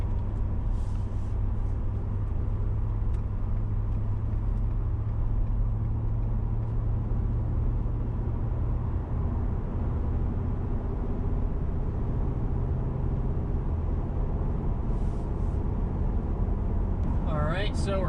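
Steady low engine drone of a 2020 Ford F-250 Super Duty Lariat pickup with a 6.2 liter V8, heard from inside the cab as it accelerates on the road, a continuous rumble with road noise throughout.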